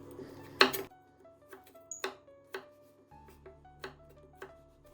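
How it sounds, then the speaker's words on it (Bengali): A knife cuts peeled carrots into very thin pieces on a board, giving sparse, crisp taps spaced irregularly, close and fairly quiet over a faint background hum, with no talk. "তারপর আমরা গাজরগুলো থেকে চামড়া ছাড়িয়ে নিব এবং গাজরগুলোকে খুব চিকন করে কেটে নিব"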